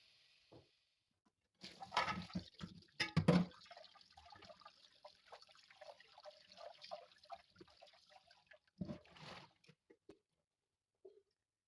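Tap water runs in uneven bursts and splashes as raw pork belly is rinsed, with quiet pauses, trickles and drips between the louder gushes.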